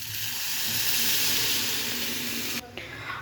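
Water poured into a hot frying pan of potatoes sets off a loud hissing burst of sizzle that swells, then cuts abruptly to a quieter simmer near the end.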